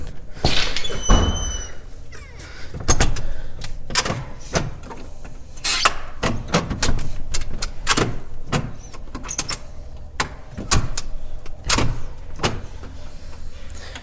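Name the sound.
door being opened to go outside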